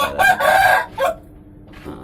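A Bangkok breed rooster crows loudly and close by, one drawn-out call broken into a few bursts, followed by quieter clucking and ambient noise.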